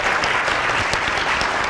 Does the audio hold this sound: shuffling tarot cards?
no